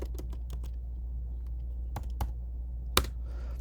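Computer keystrokes heard up close in a quiet room, with a quick burst of typing at the start, a pause, scattered taps, then one louder key hit.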